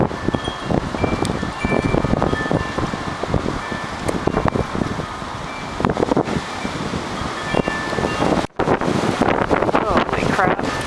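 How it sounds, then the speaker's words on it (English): Strong wind buffets the microphone outdoors in steady, loud roaring gusts with one sudden brief dropout, while people talk over it. "It's really windy out here."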